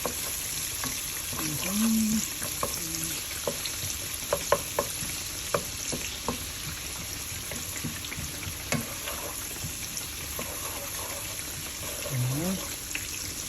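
Onion and garlic fry together in a pan until brown, a soft steady sizzle with occasional stirring scrapes and clinks, while a voice talks intermittently over the cooking.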